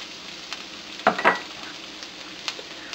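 Garlic dropped into hot cooking oil in a pan, a short loud sizzling burst followed by a second hiss, then softer intermittent crackles of sautéing.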